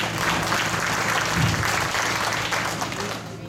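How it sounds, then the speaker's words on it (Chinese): An indoor audience at a Longtan District sustainable development forum and Lunar New Year tea gathering claps warmly for the mayor, a dense, sustained round of applause that slowly tapers off, with a voice briefly audible over it. "我们掌声欢迎。"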